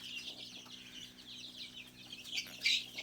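Young Sonali chicks, a native-type crossbreed about 16 days old, peep and chirp steadily in a dense, continuous chorus, with a few louder, sharper calls standing out near the end.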